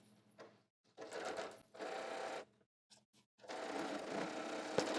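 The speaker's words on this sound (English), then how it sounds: "I am going to back stitch." A sewing machine back stitches through several layers of an apron, pocket and folded fabric, in three quiet bursts of whirring separated by short pauses.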